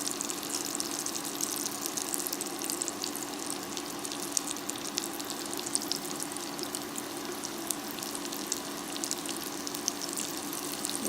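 Chicken nuggets frying in a pan, a steady, dense hiss of sizzling that holds evenly throughout with no voices.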